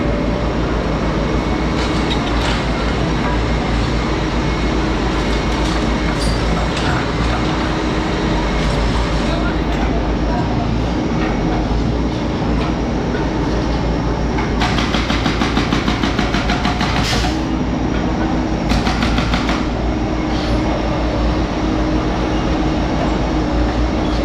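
Train rumbling past on an elevated line at a city construction site with a crane, a loud continuous roar with rhythmic clatter and a brief squeal, voices faintly underneath.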